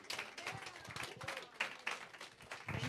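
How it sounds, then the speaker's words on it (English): Applause from a church service congregation, a dense patter of clapping hands throughout, heard faintly as if from a distance. "let's give them another round of applause"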